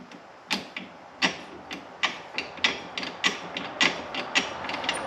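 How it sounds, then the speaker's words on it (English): Turnbuckles on a tractor being tightened by hand, giving a run of sharp metallic ratcheting clicks at a steady uneven rhythm, close and moderately loud with no talk. "tighten up these turnbuckles so that they don't sway"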